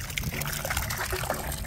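Water trickles in a clear stream, a soft, close burble and splash that runs continuously through the short clip, with a faint murmur of voices underneath.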